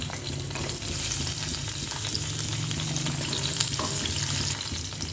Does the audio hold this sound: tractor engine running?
no